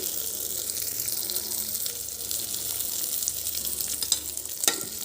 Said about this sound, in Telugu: కందిపప్పు ఇలా వేయించుకోవాలండి కలర్ మారేంత వరకు చక్కగా ఇలా వేయించుకోండి